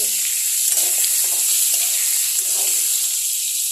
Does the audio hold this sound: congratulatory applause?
no